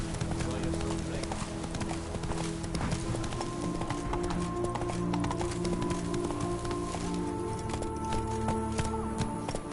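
Roach, a horse in the video game The Witcher 3, gallops with steady rhythmic clip-clop hoofbeats over game music and ambient sound, with a voice speaking over it.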